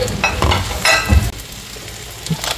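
Capsicum hits a hot pan for a sweet and sour sauce, giving bursts of sizzling and stirring scrapes that rise and fade, with a quieter stretch between them.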